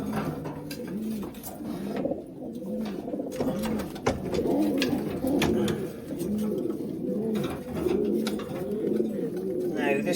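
Old racing pigeons being basketed for a race coo repeatedly, soft rolling calls overlapping close by, with handling rustles and occasional clatter beneath.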